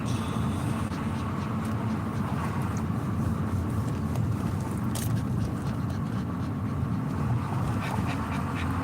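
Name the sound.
distressed dog panting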